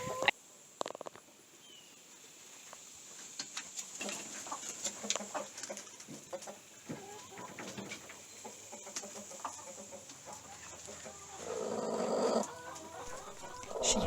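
Broody hen clucks in low, muttering bursts scattered through a quiet farmyard scene, near and fairly soft, with a brief louder rustle or scuffle toward the end.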